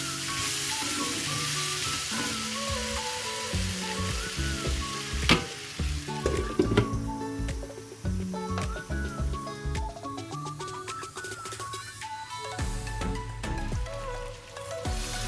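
Pork pieces sizzle in an oily pan for a South Indian style dish, a steady close crackle of frying with occasional clinks and scraping from stirring, and no voices.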